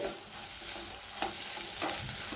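Egg fried rice is stirred in a hot pan, a steady scraping and sizzling with light rhythmic strokes of the spoon, close and fairly quiet, with no voices.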